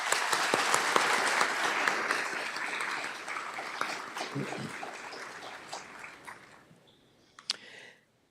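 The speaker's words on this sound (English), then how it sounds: "Let's give those folks a round of applause." Audience applause for early-career innovation award recipients at a spring chemistry graduation ceremony, a dense sustained round of clapping that tapers off over several seconds into a last few scattered claps.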